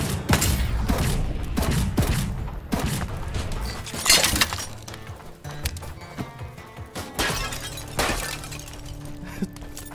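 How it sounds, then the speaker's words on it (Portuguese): Gunfire in the video game The Foglands, played on PS5 without VR: rapid, sharp bursts of shots and crashing impacts repeat across the whole stretch, loud and close. "Tava tomando tiro ali."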